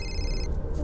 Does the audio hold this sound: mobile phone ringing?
yes